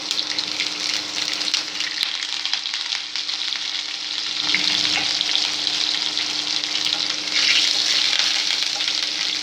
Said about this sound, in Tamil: நல்ல வெங்காயம் வதங்கிடுச்சு